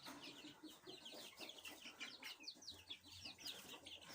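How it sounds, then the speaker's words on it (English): Baby chicks peeping in a pen on an Italian farm, many high, rapid chirps overlapping continuously at close range with soft shuffling and low background rumble, no talking. "I came to see how the baby chicks have grown."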